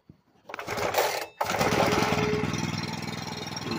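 A Makita cut-off saw engine is pull-started: a brief rasp of the cord, a catch, then the small two-stroke engine fires and runs loudly and steadily up close.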